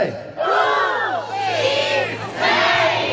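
Loud crowd shouting in unison on cue at an outdoor music show in Soriano Calabro, Italy, a massed roar of voices that dips briefly and surges again.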